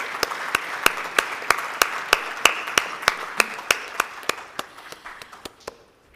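A conference audience claps for itself at a summit event, sharp rhythmic hand claps in a steady beat over a dense wash of applause that thins and fades toward the end.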